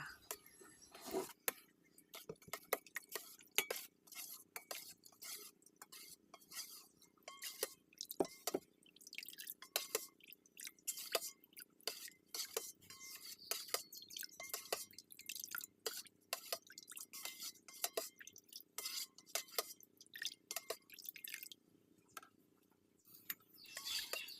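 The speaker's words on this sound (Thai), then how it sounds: "เราก็จะนำสาคูมาล้างกับน้ำสะอาด เพื่อเอาแป้งเหนียวๆออกไปให้หมดค่ะ" Sago pearls being rinsed in clean water, heard as a close, continuous patter of irregular drips, splashes and small clinks against a bowl, with no talking over it.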